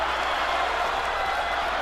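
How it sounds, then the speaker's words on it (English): Boxing arena crowd cheering and applauding during the Provodnikov vs. Matthysse fight, a steady, dense roar of many voices and clapping with no break. "Crowd got excited"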